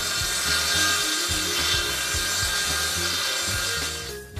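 A wooden wall panel board is cut with a saw in fast, regular back-and-forth strokes, loud and close with a raspy, rhythmic pulse and no talking.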